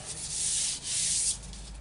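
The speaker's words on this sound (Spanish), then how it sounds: "voy a darle una lijadita" Sandpaper rubs across the wooden planking of a small boat hull in two close, steady scraping strokes with a brief pause between them.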